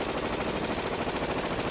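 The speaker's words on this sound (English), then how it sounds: "people realized that the recoil of the gun could do that for you. And thus, the machine gun was born." Rapid machine gun fire, a dense continuous burst of shots with no gaps, loud and sustained for under two seconds, no voices.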